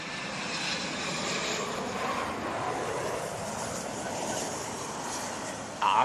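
A wide-body airliner's jet engines roar steadily at Heathrow Airport, a broad sustained rumble for several seconds that swells slightly and ends in a brief louder burst.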